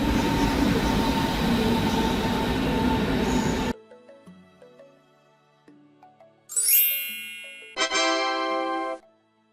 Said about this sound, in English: Trains serving shorter routes than intercity trains, connecting towns and villages with larger cities.